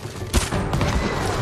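An explosion in the Ghost of Tsushima video game, a sudden loud blast with a booming thump followed by a rumbling, crackling tail, all within a second and a half.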